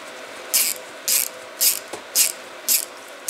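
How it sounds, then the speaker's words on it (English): Ratchet wrench tightening a 5/32 nut while assembling a 6.0 diesel fuel injector, heard as six short bursts of rapid clicking, evenly spaced about half a second apart, loud and close with no talk. "So all you're gonna do is start tightening it down."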